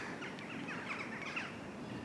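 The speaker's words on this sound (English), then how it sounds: "All the birds up there." Birds call and chirp in the distance around the grounds of a derelict former RAF hospital in Lincolnshire, with scattered faint tweets over steady outdoor background noise.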